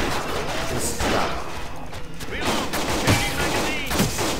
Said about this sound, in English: You shot me in the face.